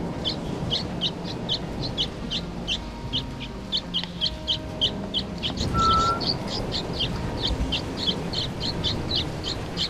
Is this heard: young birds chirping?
yes